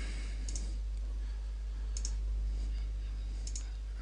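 Computer mouse clicking while working in TopSolid CAD software, three crisp, evenly spaced clicks spread over a few seconds above a steady low hum.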